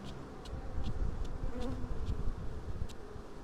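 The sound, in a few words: honey bees buzzing in a hive removed from a chimney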